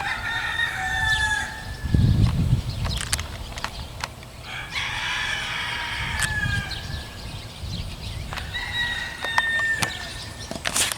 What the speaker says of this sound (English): A land of roosters, apparently.